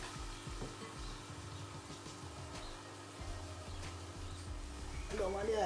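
Jamaican festival dumpling dropped into hot frying oil, with a steady close crackling sizzle throughout that brightens and intensifies near the end; a low voice may be faintly present under the frying.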